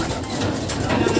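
A racing pigeon coos softly, faint low murmurs beneath a noisy outdoor background, brief and without talk.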